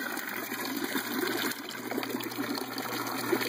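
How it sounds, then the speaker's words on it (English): Water trickles and gurgles as it drains through an aquaponics grow bed siphon below a 40-gallon tank, a continuous close splashing flow with a steady mechanical hum underneath. "I was able to get a minimal amount of water to siphon, a very minimal amount of water going into my grow bed"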